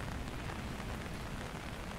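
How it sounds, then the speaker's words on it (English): Steady, dense downpour of heavy rain, a continuous hiss and patter with no pauses or voices. "I just love when it's raining. Even when it's really strong like this"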